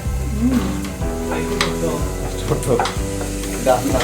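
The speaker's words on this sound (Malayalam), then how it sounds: "നന്നായിട്ട് വഴറ്റിയെടുക്കണം" Crab fry masala being sautéed in a pan with steady loud sizzling and a spatula stirring and scraping in repeated strokes, close by, with voices talking in the background.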